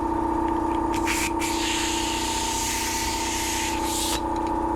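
Compressed air from a workshop airline rushes into a Tesla Model 3 tyre as a loud, continuous hiss with a steady whining tone, interrupted briefly by a couple of short bursts.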